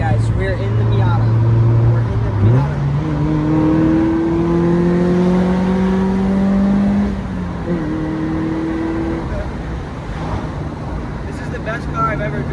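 A Mazda Miata engine revs and pulls through the gears, its rising drone dropping at each shift, steady and close throughout.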